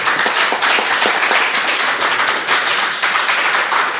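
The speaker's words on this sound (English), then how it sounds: "So I think that alone in itself is cause for another round of applause." A round of applause at a national youth and democracy forum held in a community college hall, with dense, steady clapping from a sizeable crowd filling the room at moderate loudness, continuing without pause.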